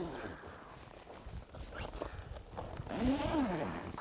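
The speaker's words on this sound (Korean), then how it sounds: "꼭 2개의 지퍼가 다 체결이 돼야지만 지퍼가 체결이 됩니다." The paired zippers of an air tent are drawn and fastened outdoors in hot weather, giving brief rasping zips and rustling fabric, close by, with a person talking in between.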